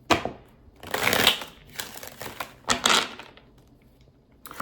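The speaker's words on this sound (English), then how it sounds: "Let me shuffle again." Tarot cards being shuffled close up, several quick riffling bursts separated by short pauses, with no talking.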